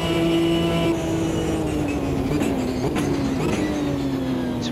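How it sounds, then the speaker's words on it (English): Pack of racing cars in the Automobilista 2 racing game streaming past together, a steady loud engine drone with a sustained pitch that slowly falls as they go by, no talk over it. "Seems to be a big train of cars coming through there."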